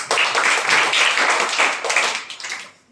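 A group of students in a Sanskrit lesson claps together, a quick round of close, brisk hand claps that tails off at the end.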